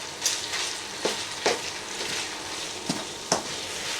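Sausages fry in a pan with a soft continuous sizzle, broken by several sharp scraping stirs and turns of a utensil at irregular intervals, close and fairly quiet.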